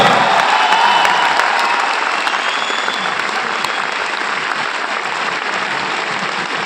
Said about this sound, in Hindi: हमारे ब्रॉन्ज डायरेक्टर्स के लिए बहुत जोरदार तालियां